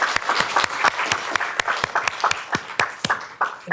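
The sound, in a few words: audience applause at academic session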